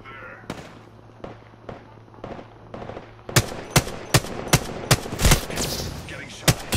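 Video game gunfire cracks out in sharp bursts, quieter single shots at first and then a louder rapid volley of close shots and impacts.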